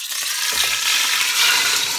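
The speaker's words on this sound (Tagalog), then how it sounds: "konting fry lang" A salmon head fries in a preheated pan, giving a bright, steady sizzle close by with soft crackles and spatters underneath.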